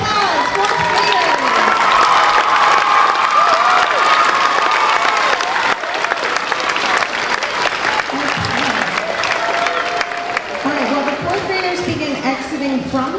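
A school strings concert audience gives 4th graders a loud, sustained ovation, thick continuous clapping mixed with cheering, children's shouts and chatter throughout.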